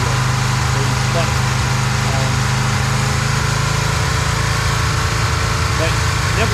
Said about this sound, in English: Rev it up. Kind of gets better when it's at high RPM.